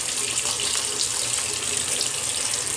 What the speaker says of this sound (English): I'm going to take this and wash it off my hands